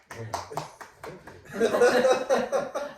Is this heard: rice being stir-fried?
no